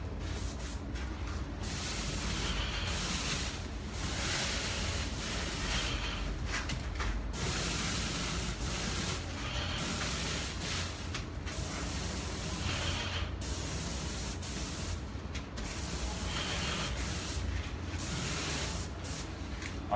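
A paint sprayer fitted with a small pencil tip hisses in repeated bursts while coating a cabinet, steady spray passes broken by brief pauses, close and loud with no talking.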